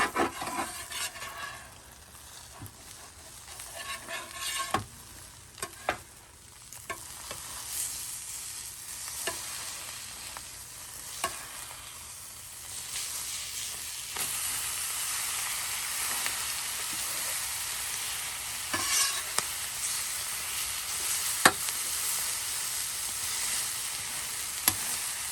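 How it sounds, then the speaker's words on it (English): An egg omelette fries in a pan, with a steady soft sizzle and occasional sharp scrapes and taps as a spatula cuts, loosens and flips it, heard close and without talk. "We gotta flip it. I'm gonna have to cut it again. Flipping it. Gotta get it broke loose from the pan."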